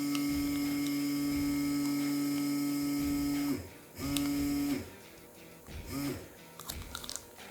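An Inkbird Plus vacuum sealer's pump hums steadily, cuts out, runs again in a brief pulse and stops, followed by quieter crinkling and crunching as the bag is drawn tight.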